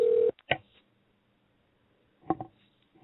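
Telephone dialing tones while calling a guest: a steady tone cuts off, then a few short separate keypad beeps follow, one near the start and a small cluster later, with quiet gaps between.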